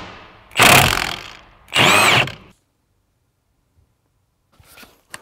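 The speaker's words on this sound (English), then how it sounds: "we're gonna go ahead and remove the bolt here" Two loud, close bursts from a power tool, likely an impact driver or drill, loosening the steering wheel bolt on a Honda Civic Type R FL5, each about a second long, then quiet with faint clicks near the end.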